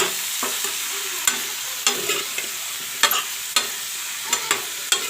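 Pumpkin pieces sizzle and fry in a pan, with a steady hiss broken by repeated scraping clicks of stirring at an irregular rhythm, close and fairly loud, no voices.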